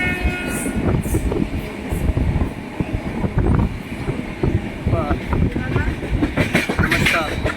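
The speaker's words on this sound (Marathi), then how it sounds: "रेल्वेतून चित्रीकरण करतो आहोत" A passenger train runs on rails near the Bhusawal thermal plant, heard from inside the carriage as a loud, constant rumble with rhythmic wheel clatter and faint voices in the background.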